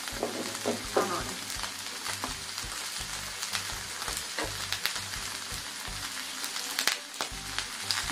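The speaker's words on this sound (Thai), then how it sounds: "ไม่กลัวแต่หมูสามชั้นมันกระเด็น" Pork belly sizzles and spits on a Korean barbecue grill, a steady, dense frying hiss with frequent sharp pops and crackles running the whole time, close and fairly loud.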